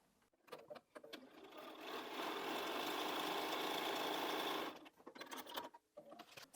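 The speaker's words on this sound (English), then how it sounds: "So I'm just going to sew one of those down" A sewing machine stitches a quilt scrap strip, running in one steady, loud mechanical whir for a couple of seconds, with fabric handling and light clicks before and after.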